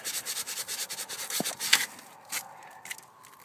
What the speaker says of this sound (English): I just got some sandpaper, and I'm just cleaning up that motor mount.